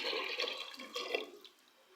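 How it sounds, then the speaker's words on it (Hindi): About three glasses of water are poured into a pot of black chana gravy, a short splashing, gurgling pour that tapers off within a couple of seconds. "अब हम इसमें ऐड करेंगे पानी।"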